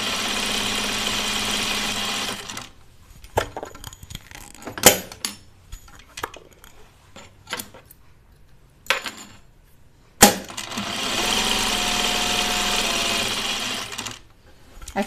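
A sewing machine runs in two steady bursts while stitching gathering rows along a quarter-inch seam allowance, loud and close, with clicks, taps and fabric handling in the quieter stretch between runs.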